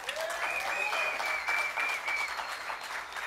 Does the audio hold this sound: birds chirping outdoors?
no